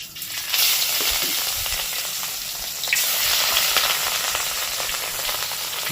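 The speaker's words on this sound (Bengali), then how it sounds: "গরম করে নিচ্ছি এবার মাছের পিসগুলো ছেড়ে দেবো" Pieces of rohu fish hit smoking hot oil with a loud, steady sizzle that swells again about halfway through and keeps crackling evenly throughout.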